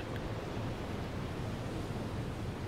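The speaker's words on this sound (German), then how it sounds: "Irre mit den Wellen." Ocean waves in the submarine game U-Boat, a steady, dense rushing wash of surf and sea noise that holds constant and fairly loud throughout, with no talk over it.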